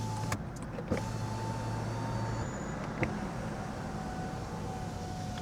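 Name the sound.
Lancia Ypsilon power windows rolling up and down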